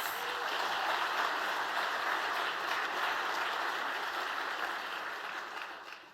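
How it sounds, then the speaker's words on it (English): A startup showcase audience claps for pitch presenters. The dense, steady applause fills the room for about six seconds before tapering off slightly at the end. No one speaks over it. "Give our first top 5 a round of applause"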